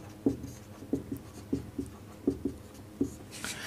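Marker or chalk strokes on a board during a physics lesson, about nine short squeaky taps in an uneven rhythm, close and fairly soft, with no talk over them.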